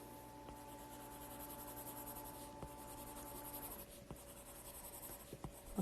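A pen drawing a math model on paper, with close, continuous scratching and rubbing strokes and a few brief taps, heard alone.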